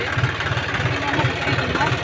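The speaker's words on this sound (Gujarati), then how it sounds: "ટ્રેક્ટર બંધ કરો ને ભાઈ" A tractor engine fitted with a 5.5 ft Macho rotavator runs close by, with a steady, throbbing idle that fills the whole short stretch.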